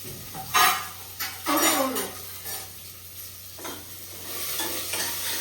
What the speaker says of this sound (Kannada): ಈರುಳ್ಳಿ ಫಸ್ಟ್ ಹಾಕಿ. ಸ್ವಲ್ಪ ಫ್ರೈ ಮಾಡ್ಕೊಳ್ಳಿ.